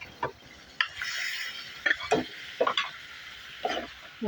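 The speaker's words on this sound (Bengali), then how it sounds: "আমার মশলাটা কষানো হয়ে গেছে এখন আমি মাছগুলি দিয়ে দিব" Baim eel fish pieces go into sautéed masala in a pan and get stirred, giving a low steady sizzle broken by several sharp spoon scrapes and clatters at close range.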